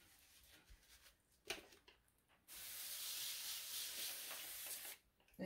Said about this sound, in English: And then we're going to grab our palm sander